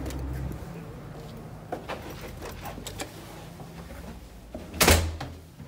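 A heavy hotel door bangs shut with a loud thud near the end, after quieter rattling and footsteps in a reverberant space.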